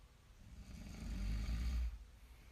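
A sleeping person snores with one slow, rumbling breath that swells louder in the middle and then fades, close and low-pitched against quiet background noise.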